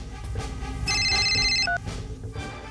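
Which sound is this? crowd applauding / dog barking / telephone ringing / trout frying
telephone ringing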